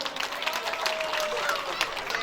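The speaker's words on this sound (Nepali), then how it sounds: "जोरदार ताली दिनुहोस् त।" Brisk, steady applause from an audience at a provincial conference of Hindu temples and religious organisations in Nepal, dense clapping throughout with a voice faintly over it.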